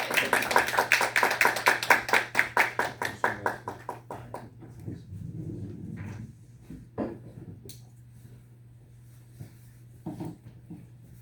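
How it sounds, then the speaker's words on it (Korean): A church congregation claps in unison, about twenty sharp, rhythmic claps that fade out, followed by scattered soft knocks and shuffling over a low steady hum. "우리 형제 나올 때 큰 박수로 환영해 주시면 감사하겠습니다."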